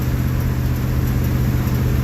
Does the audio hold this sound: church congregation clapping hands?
no